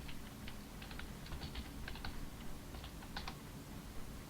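Quiet, rapid typing on a computer keyboard enters a search word, with soft clustered key clicks in short irregular bursts over a faint steady room hiss.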